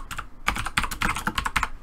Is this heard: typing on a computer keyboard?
yes